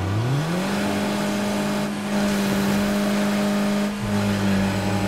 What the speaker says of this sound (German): So ein Ranger-Fahrzeug.